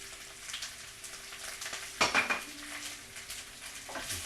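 Potatoes, onions, sausage and okra being stirred in an oiled frying pan, with a soft sizzle under repeated scraping and clinks of a utensil against the pan, including one sharper clatter midway.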